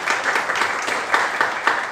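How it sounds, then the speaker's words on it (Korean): An audience at a Democratic Party youth politics academy lecture in Jeju claps for the provincial party chairman. The applause is a brief, even patter of many hands at moderate volume, with no voices over it. "저 긴 시간 동안 좋은 말씀 해주신 우리 김학규 도당위원장님께 큰 박수 부탁드리겠습니다"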